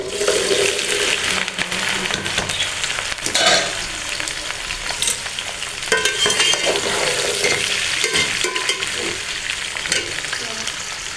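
Okra (bhindi) frying in hot oil for masala bhindi, a loud continuous sizzle and crackle with stirring and scraping in the pan throughout.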